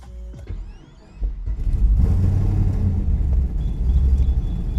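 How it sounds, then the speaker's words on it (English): A Chevrolet Camaro's engine cranks and catches, rising into a loud, steady idle rumble with mechanical creaks after a short quieter start. "Let's try and start it again"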